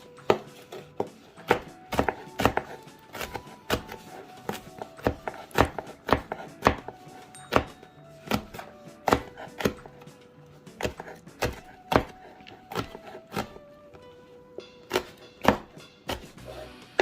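A knife chopping chili peppers on a board, brisk irregular thuds repeating close and loud for the whole stretch, sometimes quick runs, sometimes spaced strokes, with no talk.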